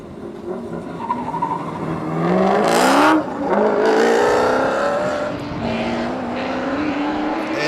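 A D1NZ Pro-Sport drift car on a qualifying run at Pukekohe Park Raceway, its engine revving hard and climbing in pitch through the sweeper, loud and sustained with tyre squeal and a brief shift break.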